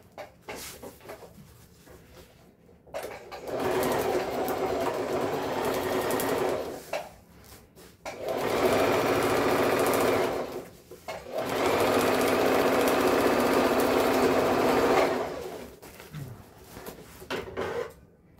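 A sewing machine stitches the bottom of a thermal waterproof lunch bag's lining in three long, steady runs, each several seconds, separated by short pauses with faint handling noise.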